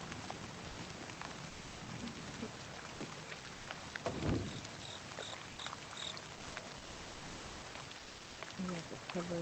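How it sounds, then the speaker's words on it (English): Steady rain falls outdoors at night, a dense even hiss of drops on surfaces that continues throughout, with a brief louder swell in the middle. "It's raining."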